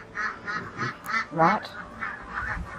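Eight-week-old ducklings quack in a rapid run of short, nasal calls, close and fairly loud, with a brief word spoken among them.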